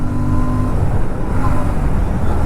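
A Royal Enfield Classic 650 motorcycle pulls hard through its gears, a loud, steady engine drone close up with rushing wind and no clear gaps between shifts.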